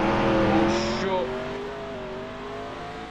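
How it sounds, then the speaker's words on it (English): A car accelerating in a driving video game, its engine tone climbing in steady rising harmonics, loud at first and then easing into a sustained drone. "Oh my god, I'm turning the car."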